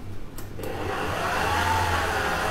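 An electric mixer whirs steadily at close range while mixing Miguelitos pastry dough with butter, eggs and lemon, a constant motor drone that builds slightly after a couple of brief clicks at the start.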